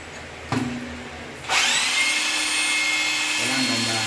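A power drill bores through ceramic tile without hammer mode, starting with a brief whir then running in a loud, steady high-pitched whine that drops slightly as it bites near the end, with faint talk underneath.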